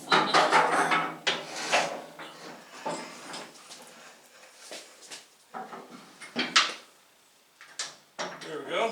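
A motorcycle lift table is heaved and flipped over, giving a run of clunks, scrapes and metallic knocks that are loud at first, then sparser, with a sharp bang near the end and scattered rattles between.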